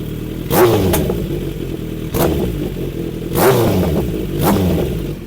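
A Kawasaki Z900RS with a MADMAX full exhaust idles with a deep burble, broken by about five short, sharp throttle blips that rise and fall, close and loud.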